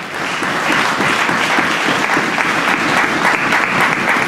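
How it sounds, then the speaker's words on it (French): A church congregation claps loudly and steadily after a French-language sermon, a dense, continuous burst of applause close by with no voices rising above it. "Est-ce qu'on peut acclamer très fort la parole du Seigneur ce matin?"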